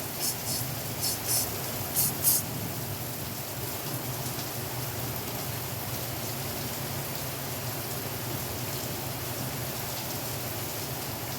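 A few short bursts of ceramic spray wax hiss onto a guitar at the start, then a steady, even background noise continues for the rest of the clip.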